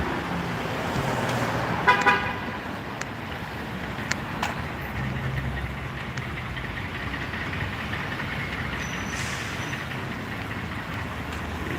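A car passes on a busy Hollywood street, a close broadband whoosh amid steady traffic rumble, with a brief horn toot early and scattered clicks and clatter, no talking.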